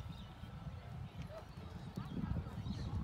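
Horse hooves clip-clop at a side saddle horse show, a quiet irregular patter of steps heard at a distance over low background chatter and ambient arena noise.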